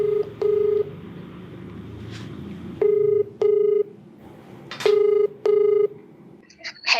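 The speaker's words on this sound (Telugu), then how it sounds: "సో మరి ఒకసారి కాల్ చేసేస్తానండి," A telephone keypad dials out, its DTMF tones sounding in short bursts with pauses between them, loud against a faint hum of room background.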